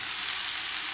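Leftover sprouts, broccoli, cabbage and leeks, already sautéed, hiss loudly and evenly as they fry in a curry pan. The sizzle is brief, constant and close, with no speech.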